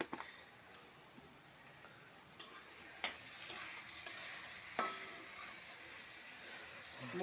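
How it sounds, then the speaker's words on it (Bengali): Prawns and boiled banana flower sautéing in a pan with a little sugar, a faint low frying hiss punctuated by several sharp spatula clicks and taps against the pan, no talking. "এবার আমি এইটাকে একটু কষাবো।"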